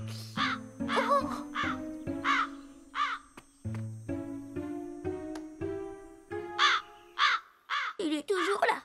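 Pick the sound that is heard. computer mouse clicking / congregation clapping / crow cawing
crow cawing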